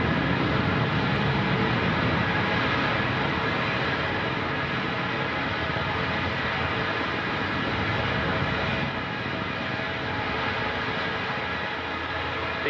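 An Antares rocket's first-stage engines roar during a launch carrying cargo toward the International Space Station, a dense, steady rumble that holds constant and loud throughout with no break.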